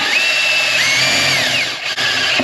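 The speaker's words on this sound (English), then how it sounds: "get the drill in here where I need it" A power drill bores a hole in an old Ford F100 junkyard pickup. The motor whines loudly and continuously at close range, its pitch shifting slightly, with a brief dip near the end.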